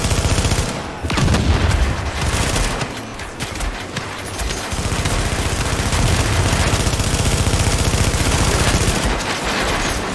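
Loud, sustained automatic gunfire in The Division, overlapping bursts and cracks rattling almost continuously from near and mid distance, without speech.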